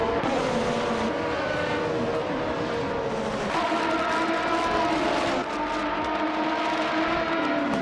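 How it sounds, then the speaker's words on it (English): A 1988 McLaren MP4/4 Formula One car in a racing video game, its engine screaming steadily and up close, the pitch climbing through gears with brief dips at each shift, alone and without talk for the whole stretch. "here comes Maya in that classic 1988 McLaren MP44, starting out on pole"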